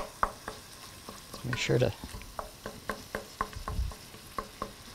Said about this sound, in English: throw our vegetables in here and let them saute a little bit in there